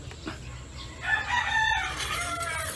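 A rooster crows at a distance, a drawn-out call rising over steady background noise.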